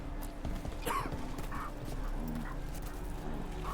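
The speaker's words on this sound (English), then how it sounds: "Doggy." A dog in the video game Dragon Age: The Veilguard gives a few short yips and whimpers over steady game ambience and soft footsteps, heard alone with no talking.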